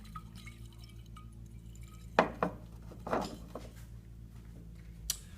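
A glass jar holding fuel fumes is shaken, giving a few faint knocks and clinks spread over a quiet background, with two louder rattles in the middle and one near the end.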